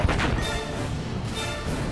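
Explosions in the World War I video game Valiant Hearts: dense, loud, rumbling blasts and crashes fill two seconds with no pause or speech.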